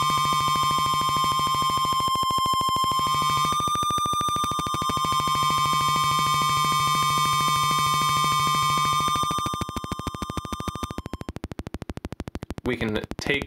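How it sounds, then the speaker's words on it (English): No-input mixing board feedback oscillator gives steady sustained tones broken by rapid rhythmic pulses and interruptions, loud and unbroken for most of the stretch before choppier stuttering near the end, with no voice over it. "we get these really nice pulses and interruptions of the stable tones"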